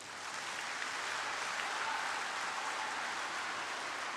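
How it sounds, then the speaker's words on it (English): Audience of secondary school students clapping their hands together at a youth event in Ogun State, a dense, steady wash of applause at a constant level throughout with no voices on top. "if you are tired, clap your hands together"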